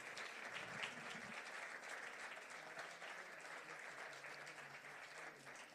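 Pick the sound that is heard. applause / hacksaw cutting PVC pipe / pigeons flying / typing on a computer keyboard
applause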